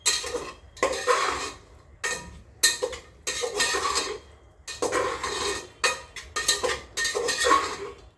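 A metal spoon scrapes and clinks against a pot while spices are stirred into vegetables, in repeated rhythmic bursts with short pauses between strokes.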